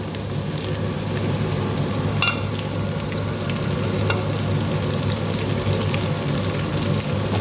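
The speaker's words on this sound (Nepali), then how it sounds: "अब म केही बेर यो भेन्डीलाई पनि भुट्ने छु" Chopped okra fries with browned onions in a pan, giving a steady, close sizzle and crackle with a few brief stirring scrapes. There is no talk.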